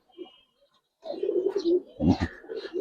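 Giribaz pigeons coo in low, throaty bursts close by, starting with a faint call and then becoming a fuller, continuous cooing after a brief pause.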